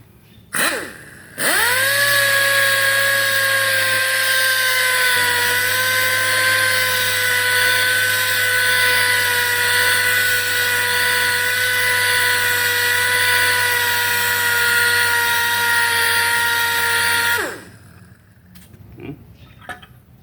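A loud, steady electric whine of a power sander grinding on hardwood runs for about fifteen seconds, starting and stopping abruptly.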